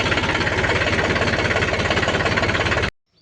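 A tractor engine runs close and loud in a farm field where fertilizer is being spread, a steady chugging with a rhythmic knock, then cuts off abruptly near the end.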